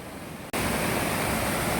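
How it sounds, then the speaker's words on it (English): Water cascades down an old staircase in a former industrial building, a dense, steady rushing roar that starts abruptly after a brief quieter hiss and continues loud and unbroken, with no voices. "Now the staircase up there is all a waterfall"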